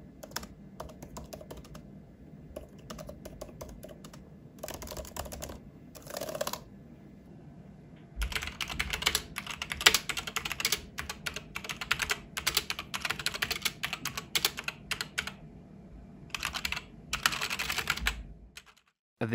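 Typing on a gaming keyboard, with bursts of rapid clicky keystrokes separated by brief pauses, close and crisp, growing denser and more continuous in the second half.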